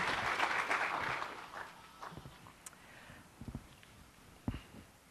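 An audience at a Microsoft developer conference breaks into a short burst of applause that fades within about a second, followed by a few scattered knocks and thumps.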